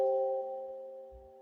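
Two steady harmonic tones play together, one near 780 hertz, and merge into a slow beating wobble. The sustained electronic drone is alone and fades gently over its short span.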